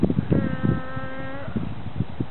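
A voice imitates a doorbell with a sustained, steady hum lasting about a second, set between short bursts of nearby speech.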